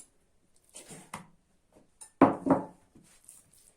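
Chopped meat and tomato are stirred together in a dish, with a few soft scrapes and clinks of utensil on the bowl, the clatter close and sparse, with no voice.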